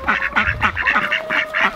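Several quick, nasal duck quacks repeat in a rapid rhythm, close and clear, with no voices.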